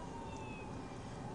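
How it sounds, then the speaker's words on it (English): A distant police car siren wails faintly as a thin rising-and-falling tone over steady traffic and road noise, heard from inside a car on a daily drive. "I hear a police car."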